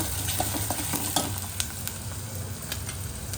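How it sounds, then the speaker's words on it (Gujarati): Onion and tomato tempering sizzles steadily in a pan, a close, continuous fry with a few sharp clicks of stirring against the metal. "મસ્ત વઘાર થઈ ગયો કાંદા ટમેટા"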